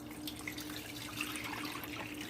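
Liquid poured into a pan of browned meat on a stovetop while making Thai gueytew radna, a steady watery pouring and trickling that runs throughout at moderate level, with no talk.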